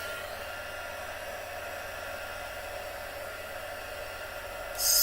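A heat gun blows a steady, even hiss of hot air while embossing vellum for crafting, close and unbroken for about five seconds, getting slightly louder at the very end.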